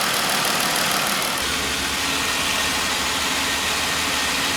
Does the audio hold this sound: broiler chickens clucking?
no